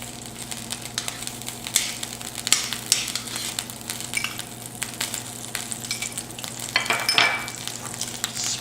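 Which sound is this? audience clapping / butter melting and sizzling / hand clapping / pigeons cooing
butter melting and sizzling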